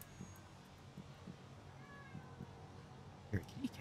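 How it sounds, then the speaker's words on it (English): A cat in the game Bleak Delivery gives faint, soft meows over quiet ambient game sound, with a few louder thumps near the end. "You're a kitty cat. Hey, kitty cat."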